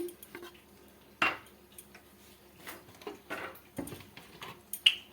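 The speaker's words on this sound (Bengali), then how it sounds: "কড়াই বসিয়ে দিয়েছি" A metal wok is set down on a kitchen stove, making a few sharp, close clanks and clinks that are spaced apart over a quiet background.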